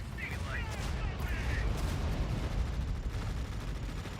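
Artillery fire in the real-time strategy game EndWar, heard as a dense, continuous rumble of battle explosions with a few brief higher tones sitting over it.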